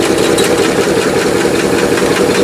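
A Rolls Royce engine, recently repaired after a fuel pump bypassing the floats, runs loud and close with a steady knocking idle rumble, no talking.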